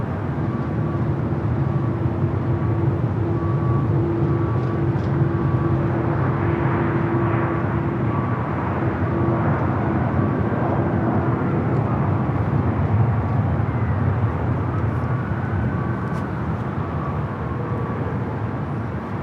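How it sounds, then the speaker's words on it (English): A Korean Air Cargo Boeing 777 freighter arriving from Seoul at Los Angeles airport, its steady jet roar droning on, moderately distant, with no talk over it. "Here's a Korean Air Cargo 777 freighter coming in from Seoul, flight 8207"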